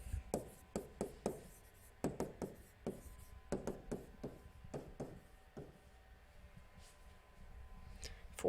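A pen scratches across paper during a sixth-grade math lesson, a close series of quick strokes and taps in uneven bursts, fading to quieter scribbles toward the end.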